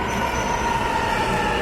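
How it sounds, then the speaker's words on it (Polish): Amsterdam metro train pulling into a station, a steady loud rumble of wheels and motors with a sustained high squeal running throughout. "tu właśnie dojeżdża jedno metro"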